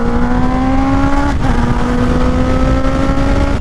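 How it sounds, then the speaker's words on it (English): Honda CBR650R motorcycle at highway speed, loud constant wind roar over a steady engine drone with a sustained tonal hum, close and continuous throughout. "I'm sorry about the wind"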